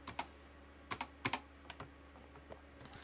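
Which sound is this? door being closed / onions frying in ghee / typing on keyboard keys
typing on keyboard keys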